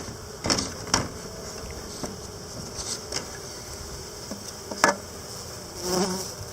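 A faint, steady buzz of honey bees around a hive during an inspection, with a few brief louder passes of bees flying close by.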